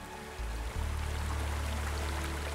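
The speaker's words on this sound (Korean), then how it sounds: "지리산의 청량한 물소리에 세상 시름도 말끔히 씻기는데요" Clear stream water flowing in the Jirisan mountains, a steady close rushing burble with a low rumble that thickens partway through, continuous and alone.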